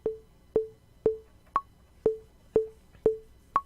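Steady clicks from the Visual Metronome app, about two per second, each a short bright tick with a higher-pitched accent every fourth beat, heard alone and clean.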